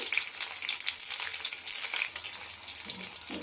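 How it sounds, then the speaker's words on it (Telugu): Chopped green chillies fry in a hot tempering of oil with mustard seeds and cumin, giving a steady, close crackling sizzle with no talking. "అలాగే మనం కట్ చేసి పెట్టుకున్నటువంటి పచ్చిమిర్చి యాడ్ చేసుకుంటున్నాను"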